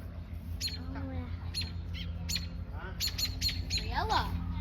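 Bird squawks and chirps near its nest with baby birds outdoors, repeated sharp calls in bursts over steady background noise, with children's voices faintly underneath.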